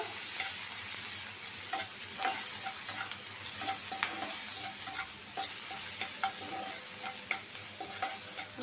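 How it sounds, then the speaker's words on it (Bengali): Chopped onions, garlic and green chilies sizzle steadily in hot oil, with occasional sharp clicks and scrapes of stirring in the pan; no voices. "লাল করে ভাজা নিব।"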